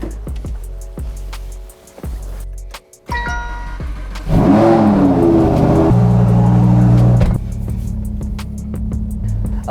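Engine of a car coming out of winter storage cranks, catches and settles into a rough idle, then revs loudly for a few seconds before easing back to a steady idle.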